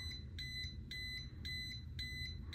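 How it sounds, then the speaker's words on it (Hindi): AmiciSense AC 12-1000V non-contact voltage tester pen sounding its alarm while detecting voltage: a rapid series of shrill electronic beeps in regular pulses, close and clear over a low background rumble, no voices. "तो जहाँ जहाँ पे ये वोल्टेज डिटेक्ट करेगा वहाँ वहाँ पे अलार्म करना चालू कर देगा।"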